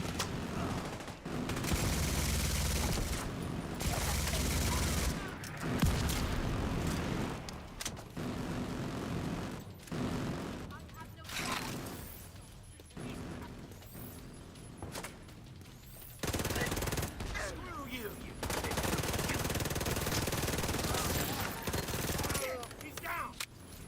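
A light machine gun fires in the shooter The Division 2, with long, loud sustained bursts broken by short pauses and mixed with other battlefield noise.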